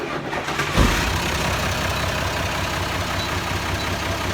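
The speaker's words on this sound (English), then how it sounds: "that's turning the key and she ticks over, immediately starts to idle" A vehicle engine, intercooler recently worked on, cranks briefly on the key and catches at once, then settles straight into a steady, even idle with no throttle, loud and close throughout.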